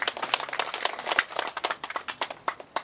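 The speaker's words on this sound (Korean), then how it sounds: "박수 한 번 더 주시기 바랍니다" Applause from the audience at a national classical Chinese poetry writing contest, a crowd of hands clapping in fast, uneven bursts, moderately loud and close, with no talk over it.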